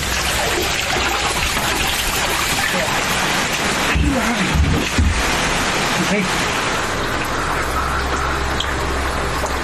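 Heavy early-morning rain pours down on a village near Thoothukudi as floodwater enters homes, a steady dense hiss throughout with a few louder low thuds and splashes in the middle.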